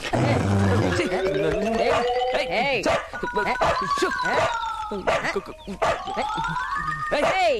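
A dog in a Telugu film scene barks and howls repeatedly, producing loud, close yelps and drawn-out wavering howls that rise and fall across the whole stretch.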